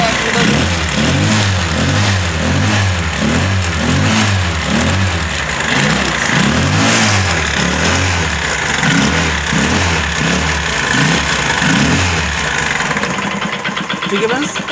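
A TVS Scooty Pep Plus with a damaged belt and clutch revs continuously at full throttle while its rear wheel stays still, giving a loud, throbbing engine drone that swells and dips as someone talks over it.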